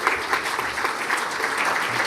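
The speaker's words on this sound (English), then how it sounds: "Let's give a warm applause for Maria." Warm applause from a convention audience at an international world convention, steady dense clapping filling the room with a soft rhythmic patter, loud and continuous throughout the short stretch.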